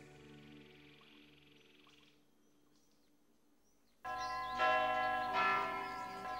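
A large cathedral bell, the great bell of Notre Dame in an animated film, rings out loud and sustained after a quiet, hushed stretch with faint chirps and tones.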